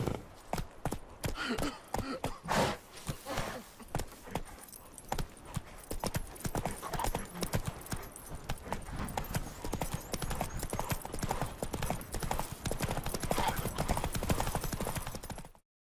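A horse's hooves clip-clop steadily at a trot in the video game The Witcher 3, close and continuous for about fifteen seconds, with no speech over them.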